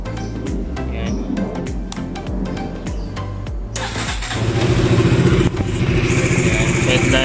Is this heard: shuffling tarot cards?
no